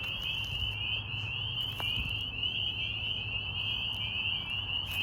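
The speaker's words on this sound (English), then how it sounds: "These frogs are very loud, and you're going to be really surprised when you see the size of them." Tiny micro frogs calling loudly at night, a sustained shrill high-pitched trill running unbroken through the whole stretch over a low steady hum, with no voices.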